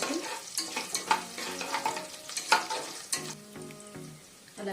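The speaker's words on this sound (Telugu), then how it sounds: "సన్నగా తరిగిన అల్లం ముక్కలు, జీడిపప్పు వేసి బాగా ఫ్రై చేయాలండి" Chopped ginger and cashews fry in a pan for a Pongal recipe, a steady sizzle broken by repeated stirring scrapes and clinks, close and moderately loud with no talking.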